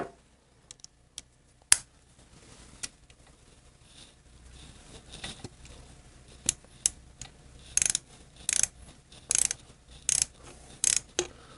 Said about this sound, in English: with a 12-point screw with a 12-point head, got to use a 12-point socket.